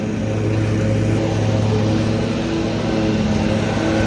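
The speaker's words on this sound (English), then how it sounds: "sorry if you hear the lawnmower in the background" A lawn mower engine drones continuously in the background at a steady, fairly loud level, a constant mid-pitched motor hum with no breaks and no speech.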